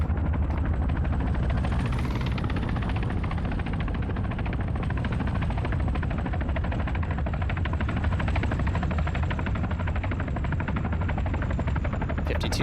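Chinook and KA-52 helicopters in a combat video game give off a loud, continuous rotor and engine roar that holds steady for the whole stretch, with no talk over it.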